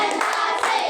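A group of children clapping hands together in a classroom, a dense burst of many overlapping claps filling about a second, fairly loud and close, with no voices on top.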